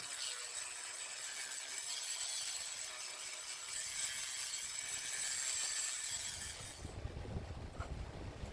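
Steady, harsh grinding of the faces of a stainless steel san mai knife blank, a continuous abrasive rasp that holds level for several seconds and then shifts to a rougher, lower tone near the end, with no talking.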